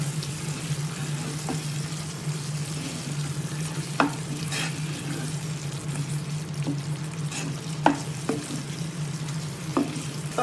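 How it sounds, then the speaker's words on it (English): Spices with allspice powder frying in a pan for baked salmon, stirred now and then: a steady low sizzle and hum broken by occasional light scrapes and clinks, close and without talk. "Meanwhile I am going to stir it well so that all the spices get absorbed."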